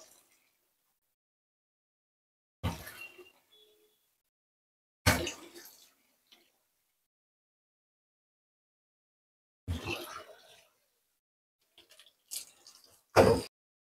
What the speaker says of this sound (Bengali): চিকেনটাকে ভালো করে ধুয়ে নিলাম।